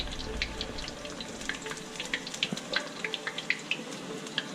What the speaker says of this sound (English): if I can get that close enough without dripping oil everywhere, you can see how it's crisping up, nice crispy chicken